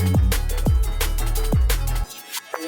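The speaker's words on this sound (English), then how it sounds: "Rev Pitch sounds like this." A DJ-style rev pitch transition on a resampled electronic loop: repeating hits bend downward in pitch in quick eighth-note steps over a low pulse, then cut off abruptly into near silence with a few faint blips.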